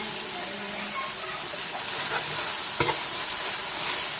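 Tomato paste thinned with a few drops of water, stirred continuously in a pot over a lowered flame, giving a steady close sizzle and frying hiss with scraping stir strokes.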